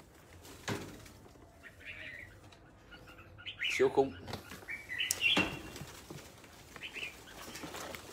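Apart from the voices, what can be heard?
large bird flapping wings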